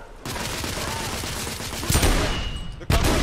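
Rapid gunfire in The Order: 1886 on PS4: a continuous loud barrage of automatic shots, with two heavier bursts near the end, close and harsh with almost no pause.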